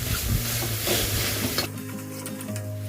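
Paneer curry with spices sizzles loudly in a pan as it is stirred, with a steady close hiss and a few scraping strokes that ease off after the first couple of seconds. No one talks.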